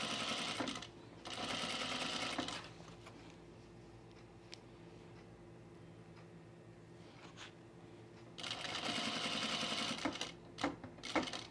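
A sewing machine backstitches the seam of a pair of men's chino pants in two loud, fast bursts of stitching at the start and end, separated by a long, quieter stretch of low mechanical hum.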